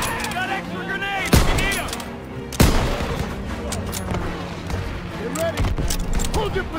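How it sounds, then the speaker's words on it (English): Rapid bursts of rifle and machine-gun fire in a Call of Duty WWII campaign battle, with two sharp loud shots standing out among continuous crackling fire, while soldiers shout orders over the din. "Suppressive fire! Keep firing!"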